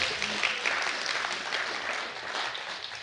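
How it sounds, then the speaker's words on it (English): An audience in a church service applauds, steady dense clapping from many hands that fades slightly toward the end, with no talk over it. "Oh, you can clap."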